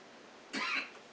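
A single short cough rings out close by in a quiet room, a brief raspy burst of about a third of a second, followed by a faint trailing breath.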